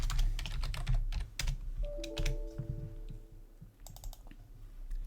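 Typing on a computer keyboard during Windows 10 setup, with quick bursts of close key clatter, brief pauses, and a low hum underneath.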